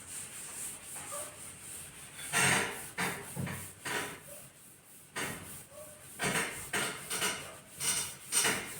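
Someone wipes writing off a board in a maths class, giving bursts of scratchy rubbing strokes in an irregular rhythm, near and moderately loud, with quiet pauses between.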